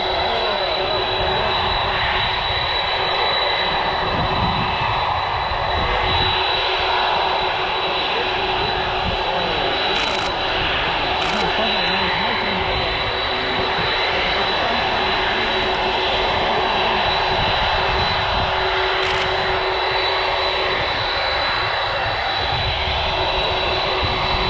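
A fixed-wing airplane drones steadily overhead as it banks near the end of a runway, its engine loud and continuous throughout, with a sustained tonal whine on top and some wind noise.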